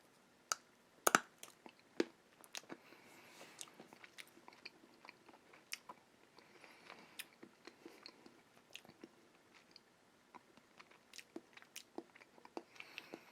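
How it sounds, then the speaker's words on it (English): Someone biting into a stale stick of gum from a 1981 Topps baseball card pack: a few crisp cracks near the start, then soft, quiet, close chewing clicks scattered throughout. "Okay, I'm going to take a little bite here."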